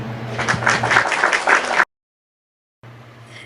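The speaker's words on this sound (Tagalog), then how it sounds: "Bigyan nyo nga ng palakpak ang inyong mga sarili." A burst of applause from a group, steady clapping with a hum underneath, then sudden silence before the hum and faint noise return.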